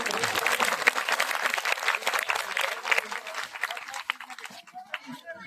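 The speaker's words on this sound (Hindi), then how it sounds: "जोरदार ताली से माता जी का अभिनंदन करें।" A crowd claps loudly and steadily at a religious coronation ceremony for Shri Ram held in Temri village, the applause thinning and fading toward the end as a voice speaks.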